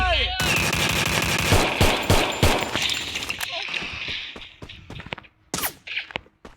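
Rapid automatic gunfire from the battle-royale game Free Fire, loud and dense bursts that thin into scattered single shots near the end, with a player's voice talking over the action.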